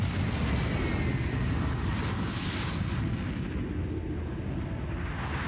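A nuclear blast levels Gandhi's capital in Civilization VI, a steady, heavy rumbling roar of explosion and wind-like debris that sustains at constant loudness throughout, with no talking over it.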